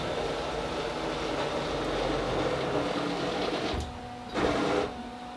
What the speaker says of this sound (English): Each axis will move against its homing switches and back off 1 inch, starting with the Z axis